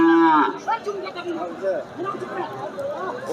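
A cow lets out a loud, close moo at a busy cattle market, then the sound drops into a crowd of people talking and chattering over each other with livestock noise in the background.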